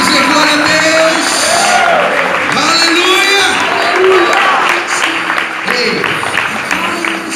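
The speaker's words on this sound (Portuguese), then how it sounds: "Você pode dar um aplauso a Ele e dizer aleluia." A church congregation claps and cheers in a sustained burst of applause, loud and close, with a preacher's voice calling out over the crowd.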